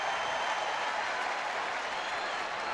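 A baseball crowd at Fenway Park applauds and cheers in a steady, dense wash of clapping as the Fenway Hawk makes an appearance during a Rangers–Red Sox game.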